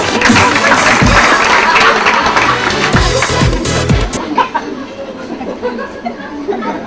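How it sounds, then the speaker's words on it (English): Comedy club audience at a grill in Andover breaks into applause and chatter, dense clapping for several seconds that thins into scattered claps and murmuring voices. "round of applause for Richard Simmons, everybody"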